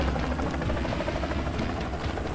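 A helicopter in the video game Renegade Ops flies along with a steady, dense rotor-and-engine drone, constant and loud for the whole moment without any talk over it.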